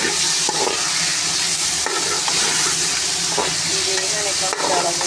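Small chicken pieces fry in a pan for achari chicken macaroni, a steady loud sizzle running throughout with occasional scraping knocks of a spoon stirring the meat.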